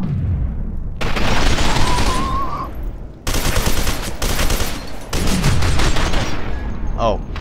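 Gunfire from the video game FEAR 2: rapid bursts of automatic fire and heavy booming shots crack out loud and close in several separate volleys, with whooshing game effects between them.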